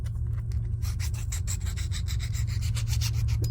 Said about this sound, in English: So I'll go over it with a flat file